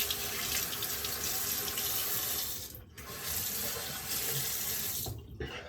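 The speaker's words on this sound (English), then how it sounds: "I'm gonna wash this off with cold water." Steady cold water from a tap pours continuously for several seconds, with two brief dips where the flow is interrupted; no voices.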